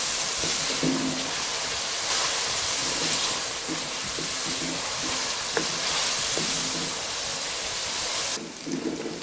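Chicken pieces fry with garlic paste in a pan for Chinese fried rice, a steady loud sizzle with crackling pops and scraping stirs throughout, heard close with no voices.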